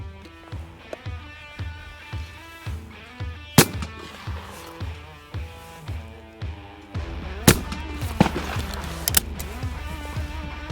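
Browning B725 Pro Sport over-and-under shotgun firing at clays on a cold day, sharp reports cracking out repeatedly at close range over a steady low rumble, the shots coming irregularly and louder toward the end.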